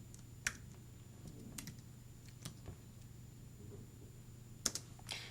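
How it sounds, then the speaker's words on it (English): Quiet, sparse keystrokes and clicks on a computer keyboard, a few isolated taps over a low steady hum in a quiet room. "let me try to type a little bit more here. I'll type some of it."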